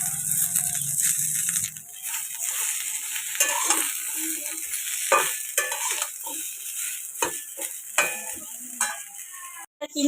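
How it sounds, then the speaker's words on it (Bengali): Winter vegetables lightly frying and being stirred for khichdi in a cooking pot, a soft sizzle under repeated scraping and rattling of a spatula against the pot, close and fairly quiet with no speech. "বাকি সব সবজিটা আমি হালকা করে ভেজে নেব, যাতে সবজির কাঁচা গন্ধটা না থাকে"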